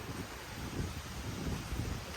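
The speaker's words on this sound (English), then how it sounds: "All right, so the wind is picking up." Wind buffets the microphone as Hurricane Ian picks up in Orlando, Florida, making a low, steady, fairly quiet rumble with no other sounds.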